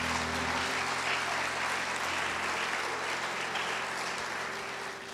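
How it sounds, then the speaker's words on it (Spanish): A church congregation claps continuously in dense, steady applause that fades slightly toward the end. "dale un aplauso fuerte al Señor"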